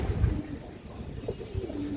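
A female pigeon coos in low, soft murmurs, faint and close, over a steady background rumble with no talking.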